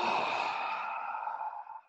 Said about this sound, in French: Allez, tout le monde, prenez une respiration.